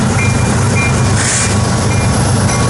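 A westbound manifest freight train rolls past at Ashland, Nebraska, a loud, continuous rumbling roar of railcars close by, with a faint high tone weaving through it.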